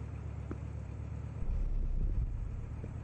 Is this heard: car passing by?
yes